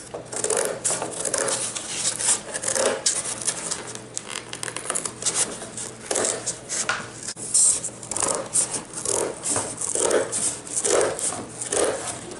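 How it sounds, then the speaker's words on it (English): Flaps are cut off a cardboard box, giving a steady run of rough scraping and tearing bursts over about twelve seconds, with no voices. "I'm going to recommend that you cut the flaps off. So give me just a second, I'm going to cut these flaps."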